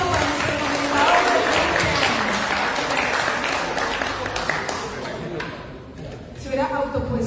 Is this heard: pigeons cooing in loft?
no